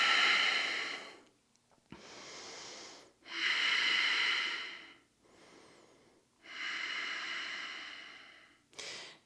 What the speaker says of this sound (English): 3 to 5 deep breaths here